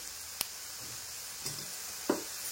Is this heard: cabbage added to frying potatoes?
yes